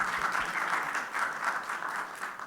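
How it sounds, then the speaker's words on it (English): Conference audience clapping briefly, a soft, moderately dense patter of applause heard at some distance, steady for a couple of seconds. "So applause for our Norma, yeah."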